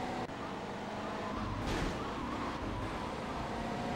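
A car in the PS2 game Grand Theft Auto: Vice City Stories drives with a steady, loud engine roar, swelling into a brief skid-like screech around the middle.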